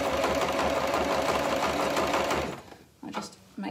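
A sewing machine with a foot pedal runs steadily, stitching a zigzag seam on fabric for a shopping basket bag, a close, even mechanical whir for about two and a half seconds before stopping, followed by brief clicks and a short restart.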